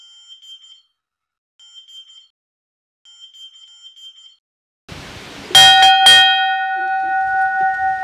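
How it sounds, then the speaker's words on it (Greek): Faint repeated beeping tones give way to a loud metallic church bell strike in Messinian Mani, Greece, which rings on with a long, sustained resonant hum. "Για ποιον χτυπάει η καμπάνα?"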